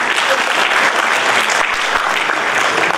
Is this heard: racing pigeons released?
no